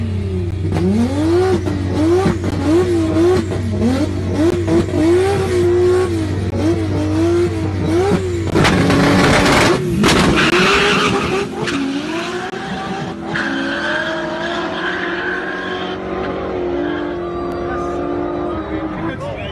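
A drag racing car launches on an unprepped street, engine revving in rising bursts before tires squeal and roar loudly, replayed from a recording over voices talking.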